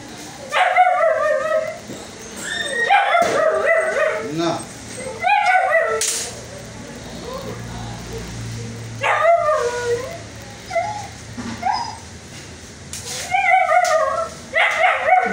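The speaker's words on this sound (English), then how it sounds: "Doggy, keep quiet." A dog yips, whimpers, howls and barks in repeated bursts close by, with a pause in the middle and a person talking over parts of it.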